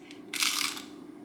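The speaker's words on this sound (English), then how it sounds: "Can you hear the crunch?" A single loud, crisp crunch of biting into a beer-battered fried onion ring, lasting about half a second, close up.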